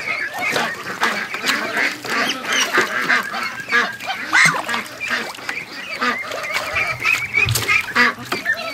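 Ducks in a bathtub quacking and honking in a busy, overlapping chorus, loud and close with constant nasal calls and some splashing throughout.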